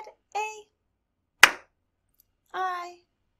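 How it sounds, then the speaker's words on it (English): During a children's storytime, one sharp, isolated clap stands out between short bursts of a voice, in an otherwise quiet room. "so now we have to clap"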